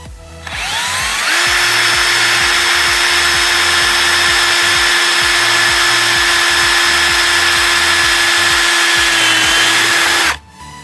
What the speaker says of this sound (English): let's start drilling this other side